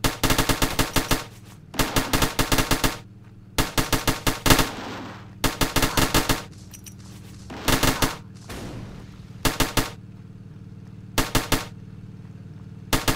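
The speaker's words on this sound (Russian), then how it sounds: "Стреляют жестко." Video game automatic gunfire with soldiers shooting: repeated rapid bursts of machine-gun fire, loud and close, separated by short pauses, with no talk.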